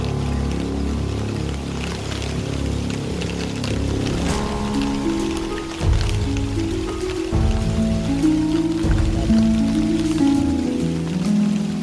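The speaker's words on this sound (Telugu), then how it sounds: "ఆ స్తంభానికి ఆనుకుని ఉన్న వాగు పొంగి పొర్లుతోంది." An overflowing stream next to a power pole during heavy rain, a loud constant rush of water and pouring rain with rumbling low surges, no voices.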